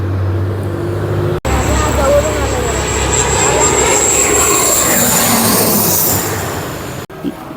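A loud airplane roars nearby at Mumbai international airport, its jet engine whine rising and sweeping past over several seconds before cutting off.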